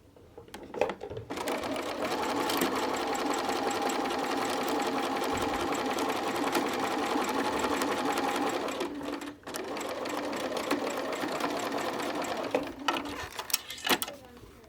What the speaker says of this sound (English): now we are back at my machine, and I'm just gonna sew down the seam like I did for all my previous seams